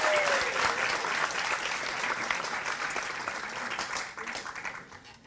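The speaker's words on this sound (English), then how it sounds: "They practice very hard, so give them a warm applause." Loud, sustained audience applause fills the hall for performers at African Night 2018 in Delft, a dense wash of clapping that fades toward the end.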